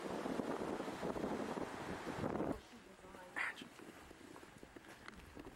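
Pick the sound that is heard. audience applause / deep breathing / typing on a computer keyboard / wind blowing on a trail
wind blowing on a trail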